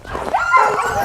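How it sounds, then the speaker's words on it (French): Sled dogs from a pack kept in a Québec forest let out a quick, loud yip rising into a whining bark, heard close and alone. "Donc ça, c'est nos deux chiens, les deux, là."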